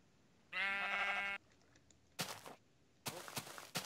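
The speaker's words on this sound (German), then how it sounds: "hier sind ganz viele Schafe" Sheep in the Minecraft video game bleat in three separate calls, first a long wavering bleat, then two shorter, harsher ones, clear and close with quiet gaps between.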